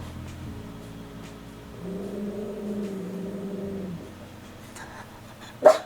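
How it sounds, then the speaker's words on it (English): A dog lets out a low, sustained growl lasting a couple of seconds outdoors near a rattlesnake, then falls quiet before one sharp, loud bark at the end. "So if you just heard my dog start growling"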